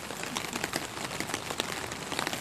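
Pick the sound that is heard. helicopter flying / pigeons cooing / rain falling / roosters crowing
rain falling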